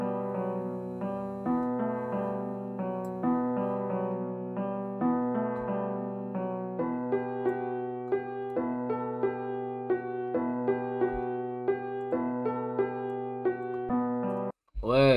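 A piano melody loop, used as a sample for drill beat production, plays a repeating pattern of struck chords and notes at moderate volume, then cuts off with a short noisy burst at the end.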